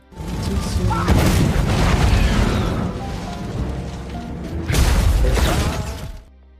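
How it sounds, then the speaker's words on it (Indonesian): An action-film hideout blows up as fire reaches oil drums, a loud deep roaring explosion followed by a second big blast with crackling debris, close and booming before cutting off. "Tak lama markas itu pun meledak akibat api yang menjalar ke beberapa galon minyak"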